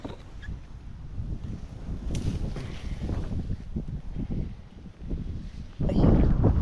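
Strong wind gusting across a farm with calamansi trees, roaring and buffeting the microphone in uneven surges, with a louder blast near the end.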